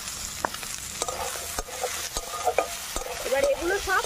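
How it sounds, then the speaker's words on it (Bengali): Onion, ginger, garlic and chopped tomato fry and sizzle in a pan, with repeated sharp scrapes and knocks of a spoon stirring throughout, close and clear without talk. "এবার এগুলো সব পেঁয়াজের সাথে ভালো করে ভেজে নেবো।"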